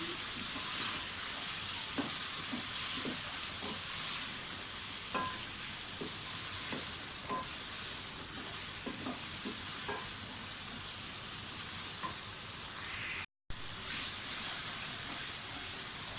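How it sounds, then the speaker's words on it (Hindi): Potatoes with dried fenugreek and spices fry in a pan, giving a steady close sizzle broken by repeated scraping stirs of a spoon. There is no talk, and the sound drops out briefly near the end. "आलू को मसाले के साथ भूनिए अच्छी तरह।"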